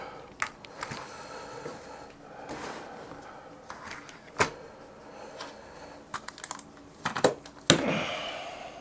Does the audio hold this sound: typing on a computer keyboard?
yes